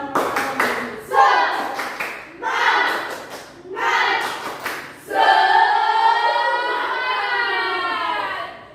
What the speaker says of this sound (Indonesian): Sekarang kita tepuk semangat dulu ya.